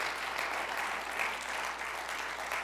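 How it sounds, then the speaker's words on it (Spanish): A church congregation applauds in praise during a service, giving a steady wash of many hands clapping together, even and fairly distant, sustained without a break. "dale un fuerte aplauso de alabanza a nuestro Rey de Reyes y Señor de Señores"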